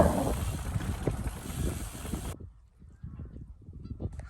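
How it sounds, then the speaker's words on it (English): A dense chorus of geese honks continuously from a large flock filling a field on a calm evening, with wind buffeting the microphone. "The field is just chocker full of geese."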